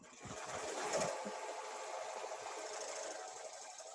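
An Avance 1501C embroidery machine stitches onto a shoe, a steady rapid mechanical whir with a fast needle rhythm, moderately quiet and continuous, with a small bump near the start.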